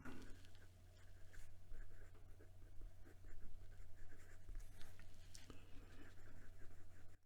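A 2021 Tibaldi Bononia fountain pen writing on paper with its nib reversed, making faint, close scratchy strokes in short bursts over a low steady hum.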